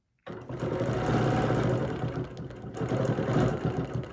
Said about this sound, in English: I'm going to stitch down here, and I'm going to stitch over to my center line